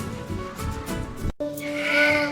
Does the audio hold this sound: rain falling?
no